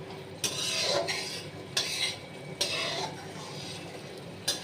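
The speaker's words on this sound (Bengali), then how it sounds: "লবণ দিয়ে আমি একটু নাড়াচাড়া করছি।" A spoon stirs spice masala with salt in a pan, making repeated close scraping strokes in an uneven rhythm with a faint sizzle underneath.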